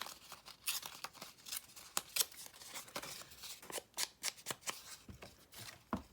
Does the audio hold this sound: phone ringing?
no